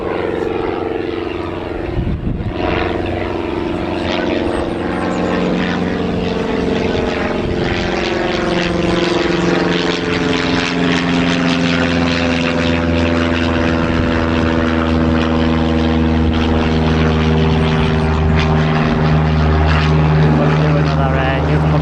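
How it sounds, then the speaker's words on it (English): A small propeller plane passes overhead at Newcastle Airport after a touch-and-go on the runway, its loud droning engine and prop tone sliding in pitch as it climbs away, continuous and close. "That little prop plane's just heading back out again after doing a little stop on the runway"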